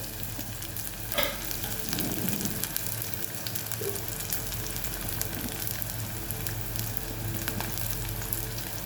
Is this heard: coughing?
no